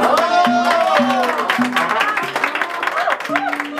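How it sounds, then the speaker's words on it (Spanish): Applause from the guests at a quinceañera fills the room steadily, with a voice and tonal sounds rising over the dense clapping. "El aplauso."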